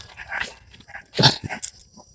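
Dog barks loudly at close range at night: a short burst of sharp, spaced barks and yips, with no talking.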